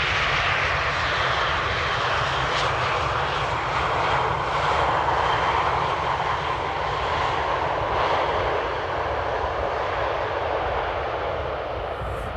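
A landing airliner at Amsterdam Airport gives a steady, loud jet engine roar, broad and continuous with little change in level from start to finish, heard alone without voices.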